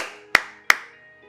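One person claps twice, two crisp, close, sharp claps about a third of a second apart, each ringing briefly in a quiet room, with no talk.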